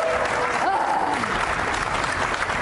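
A town hall audience applauds in a thick, sustained wash of clapping at fairly close range, with a voice briefly rising over it early on.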